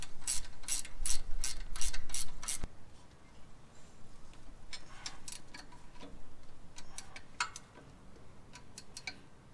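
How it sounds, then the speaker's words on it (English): A ratchet wrench tightening the guide pin bolt on a brake caliper, first a quick burst of sharp, loud ratcheting clicks, then scattered softer clicks and light metal handling up close. "have your wrench right there, and then tighten the bolt at the end"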